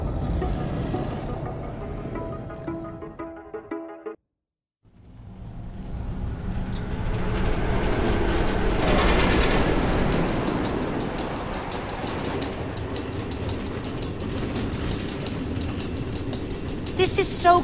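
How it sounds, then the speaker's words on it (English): Minecraft Story Mode train running on automated tracks through the Nether, a steady rumbling ride with clattering and rising noise after a brief silent gap, continuing loud throughout. "Automated train tracks running all through the Nether?"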